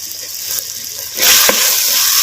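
Small tomato pieces and cut mudavattukal tuber dropped into hot oil for a vegetable soup, a steady hiss jumping to a louder, fuller sizzle partway through, close and continuous with no talking.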